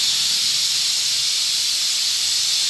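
Chopped green onions dropped into hot oil already holding cumin, mustard seeds and asafoetida give a loud, steady, close sizzle that hisses on without break and with no talking.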